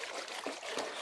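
Water and gravel slosh and trickle in a gold pan, with steady wet swishing and a couple of stronger splashy surges close to the microphone.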